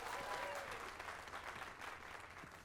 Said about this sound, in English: Let us give a round of applause for young Fulvio